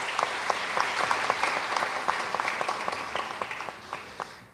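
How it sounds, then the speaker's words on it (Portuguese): Church congregation applauding during a sermon, a steady wash of clapping with distinct sharp hand claps on top, moderately distant and gradually tapering near the end. "Uma salva de palmas para ela."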